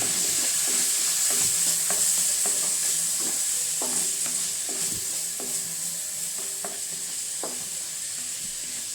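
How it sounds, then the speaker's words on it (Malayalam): A utensil scrapes and knocks against a pan in a steady rhythm of repeated strokes, mixing vegetables over a constant frying hiss, close up and without voices. "നമുക്കിതെല്ലാം കൂടി ഒരുമിച്ച് ഇളക്കിയിട്ട്"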